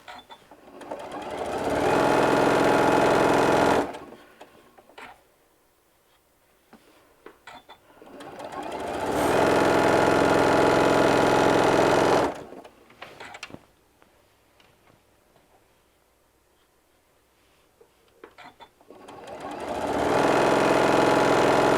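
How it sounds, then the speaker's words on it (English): Sewing machine running a half-inch seam on a large bean bag, with three long steady whirring runs of a few seconds each broken by quiet pauses and small handling clicks. "Little back tack, and then sewing all the way down."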